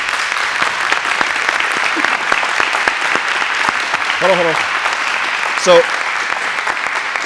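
Audience applause for school resource officers at a Fort Mill, South Carolina school ceremony: steady, dense clapping throughout, with a brief voice speaking near the middle and again toward the end.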